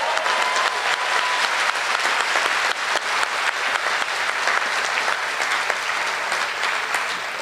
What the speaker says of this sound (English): A round of applause for this person.